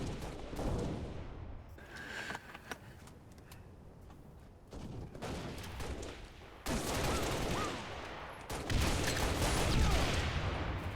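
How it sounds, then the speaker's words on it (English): Repeated booming fire and explosions in Halo, including grenade launcher shots, arrive as dense loud bursts with quieter stretches between them. "Why is there a grenade launcher?"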